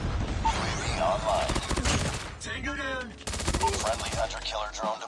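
MSMC submachine gun fired in bursts during video game play: rapid, loud automatic bursts over in-game ambience, separated by brief pauses and softer game sounds.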